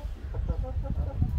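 Chickens in a coop cluck softly in a few low, short calls amid a muffled, rumbling background, close by and brief.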